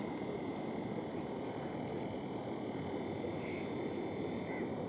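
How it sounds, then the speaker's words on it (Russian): Constant broad wash of distant ocean surf at a Maldives beach, a steady rushing roar without distinct breaks, with faint high tones drifting over it. "И вот слышите вот этот шум? Это шум от волн."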